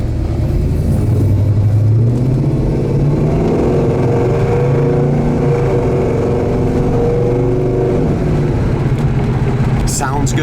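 A 1971 Chevelle Malibu fitted with headers runs with a loud, throaty engine rumble that rises in pitch as it revs, then holds a steady drone from inside the car for about ten seconds.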